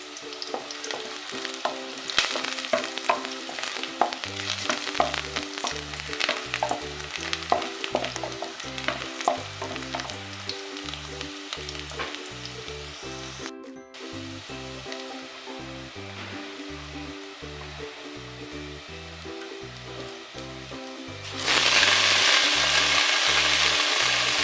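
Onions and sukuma wiki (kale) fry in a pan with a steady sizzle, broken by rhythmic stirring scrapes, before a louder burst of hissing near the end.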